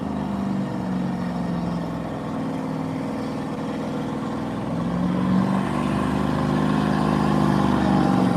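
Car engine revving during a burnout at the Hot Rod Power Tour, a loud continuous roar that swells and climbs in the second half, heard from nearby without talk.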